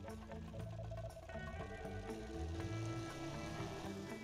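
A car engine idles and revs in the Automation car-building game, a steady droning hum with shifting pitch heard alone and close for a few seconds.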